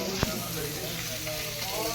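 Fish frying in a pan gives a continuous close sizzle and crackle with one sharp tap near the start, steady and fairly loud.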